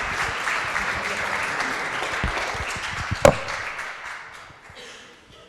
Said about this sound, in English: Round of applause for Francesco.